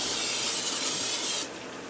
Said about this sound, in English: Now I'm going to spray this down with a little bit of cooking spray oil.